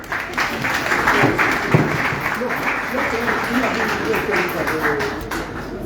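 A conference audience breaks into steady applause to welcome a speaker, the clapping fairly loud and continuous with some murmuring voices mixed underneath.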